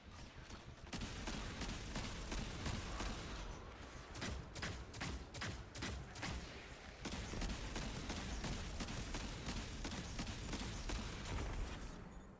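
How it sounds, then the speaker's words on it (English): Hand cannon gunfire in the video game Destiny, a dense and steady volley of loud, booming shots with heavy impacts and mechanical clatter, dropping briefly into sharp separate cracks before the sustained barrage resumes. "I'm just going to hit him with the hand cannon and let it do its job"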